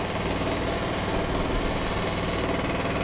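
A cheap spray gun sprays gelcoat onto a boat hull, giving a loud, steady broadband hiss that carries on without a break, heard alone with no talk.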